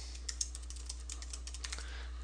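Someone types a password on a computer keyboard, a quick run of light, close key clicks with an irregular rhythm, faint and heard alone over a low steady hum.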